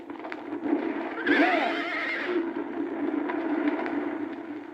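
A horse neighs once in the 1970 film Beneath the Planet of the Apes, a loud whinny over a steady rumbling background with scattered crackles and faint hoof-like knocks.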